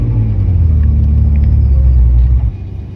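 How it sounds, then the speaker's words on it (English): An Audi R8 with a V10 engine fires up and idles with a deep, loud rumbling drone close by, then the sound drops abruptly in level near the end. "George is gonna go ahead and move his R8 right now. Let's hear it start"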